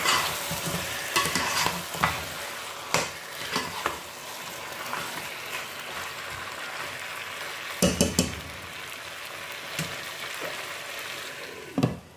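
Sauce with black pepper and rehydrated parsley simmering in a covered pan over lowered heat, a continuous crackling sizzle broken by a few sharp clinks and knocks, close by with no voices.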